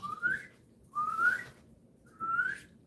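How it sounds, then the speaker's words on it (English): A person whistles by sucking in air, producing three rising inhaled notes, each about half a second long, evenly spaced and close, with no talking. "I can only whistle by sucking in air."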